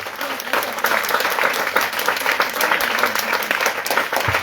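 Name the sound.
congregation applauding the Lord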